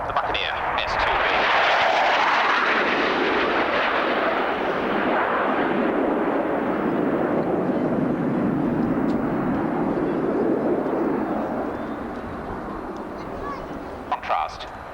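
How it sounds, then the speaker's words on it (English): A Buccaneer S2B jet sweeps past low at about 100 feet and 530 knots at an RAF Abingdon airshow, a loud sustained roar that swells, holds, then fades away. "530 knots, down at 100 feet, the Buccaneer S2B."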